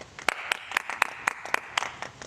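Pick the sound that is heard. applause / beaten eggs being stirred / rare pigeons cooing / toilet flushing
applause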